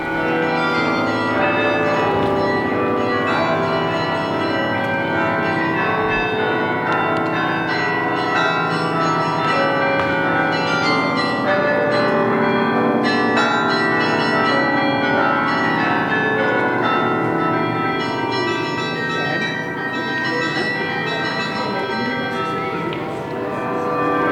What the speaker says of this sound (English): Ring the bell. It's a good bells.